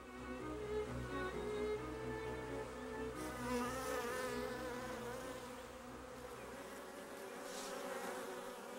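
Foraging bees heavy with pollen and nectar fly close by, a layered droning buzz of several wings that wavers in pitch and loudness, with no voices.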